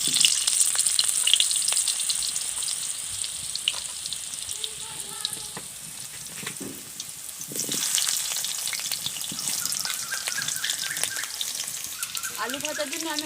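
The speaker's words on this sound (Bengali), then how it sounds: "এবার আমি আলুগুলো ভেজে নেব।" Potatoes fry in a pan on the stove with a continuous near sizzle, some stirring clatter and a few brief tonal sounds over the crackle.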